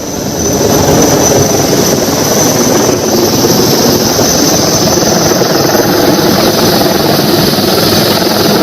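A rescue helicopter roars close by over a flood, a loud continuous rotor and engine drone that holds steady throughout.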